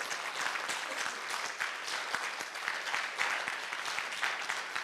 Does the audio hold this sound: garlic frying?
no